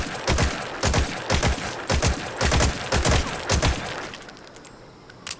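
Rapid bursts of automatic gunfire from Metal Gear Solid 5: The Phantom Pain, about eight loud, close clusters of shots in a steady rhythm, then the firing stops and a quieter tail of ambient game noise follows.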